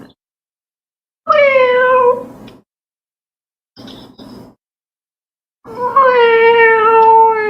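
Two loud, drawn-out cat meows with a short grunt-like sound between them, slightly thin and tinny as if played through a small speaker.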